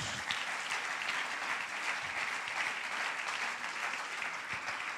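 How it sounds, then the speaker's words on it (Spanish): Steady applause from a church congregation during a worship service, a dense even wash of clapping lasting throughout with no voices over it. "Démosle un aplauso al Señor Jesús."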